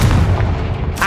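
A Confringo blasting spell exploding in Hogwarts Legacy: a single loud, heavy boom with a deep rumbling tail that fills the short moment.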